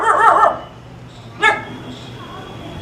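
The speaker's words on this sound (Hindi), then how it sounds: "क्यों भौंक रहा है यार।" A household dog barks inside a home during Diwali decorating, giving a short yip-like bark at the start and another sharp bark about a second later, close and fairly loud over quiet room tone.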